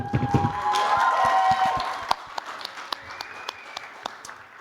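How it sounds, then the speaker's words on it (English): Audience at a student association election debate breaks into steady applause for a candidate, a dense burst of clapping that fades to a few scattered claps. "Let's give him a nice round of applause"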